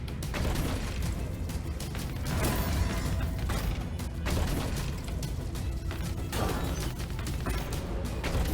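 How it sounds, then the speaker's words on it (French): Reels spin in the Money Train 3 slot machine video game, a dense, continuous mechanical clatter of ratcheting and clunking stops with sharp hits scattered throughout, loud and steady. "Machine à sous dans tous les cas qui est magnifiquement représentée"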